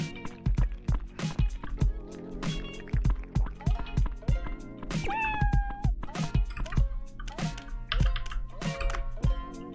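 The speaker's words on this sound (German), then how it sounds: "Katze füttern." Repeated cat meows from a pet being fed in the fishing video game Dredge, with dripping, liquid-filling effects and soft tapping clicks, in a busy rhythmic stream of short bursts at close range.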